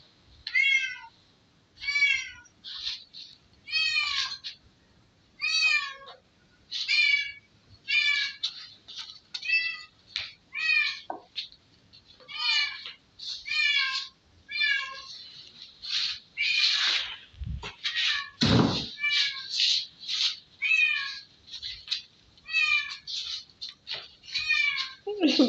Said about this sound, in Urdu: بلی کی آواز آ رہی ہے، بلی اس کے ساتھ ساتھ چل رہی ہے۔